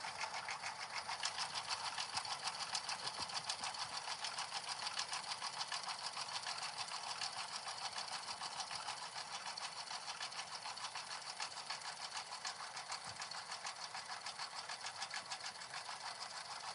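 Embroidery machine stitching basic running-stitch lines, a continuous rapid mechanical chatter at steady volume throughout, fairly quiet and with no talking.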